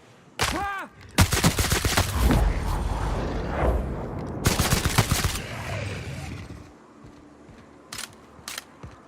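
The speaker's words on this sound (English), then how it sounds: "This rifle is absolutely insane." Rifle fire in the video game The Outer Worlds: a loud opening shot, then dense bursts of rapid gunfire with mechanical clatter, a pause, another heavy volley, and two final sharp isolated shots.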